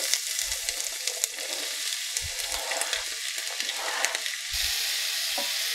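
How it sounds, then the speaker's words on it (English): Chopped onion sizzles steadily in melted butter in a pan, a continuous bright frying hiss with a few low knocks and bumps of the pan, growing slightly louder near the end; no one speaks. "once your butter has melted, go ahead and add your chopped onion to the pan"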